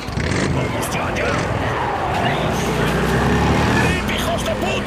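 A motorcycle roars along in the video game Days Gone, a loud continuous engine drone with rushing road noise, while people shout over it.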